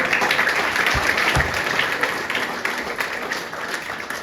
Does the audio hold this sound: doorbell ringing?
no